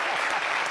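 Applause for a rapper at a live event in France, a short, dense burst of clapping from a crowd that stays steady and fairly loud throughout.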